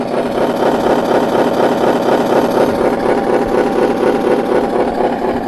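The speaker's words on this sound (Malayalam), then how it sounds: "ഈ ബട്ടൺ ഞെക്കി കഴിഞ്ഞാൽ വണ്ടിയുടെ മറ്റേ എൻജിൻ സൗണ്ട്." Simulated engine sound from a Scania 1/18 scale RC truck, a loud, steady rumbling idle with a fast regular throb and buzzing overtones, alone without talk.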